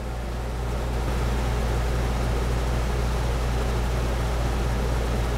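An RV rooftop air conditioner running on full blast, a steady loud broadband roar of rushing air from the intake with a low constant hum, close and unbroken, no voices.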